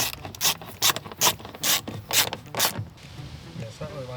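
A ratchet wrench tightening a bolt clicks through a quick series of loud, sharp ratcheting strokes, then stops, and quieter voices follow near the end.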